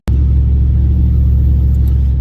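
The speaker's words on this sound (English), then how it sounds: "the truck is warmed up. We're just driving around for a little bit" Supercharged 5.7-liter Ram truck with a Whipple blower, warmed up and cruising, gives a loud, steady low engine rumble and drone that holds throughout without breaks or clear revving.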